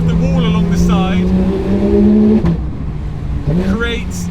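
A Porsche 911 GT3 RS engine revs loud and close, its rising and falling howl bouncing off a roadside wall, with a voice talking over part of it.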